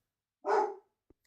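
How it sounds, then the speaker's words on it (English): A single dog bark, short and fairly faint, heard alone against silence during a live gaming stream. "that's my dog barking"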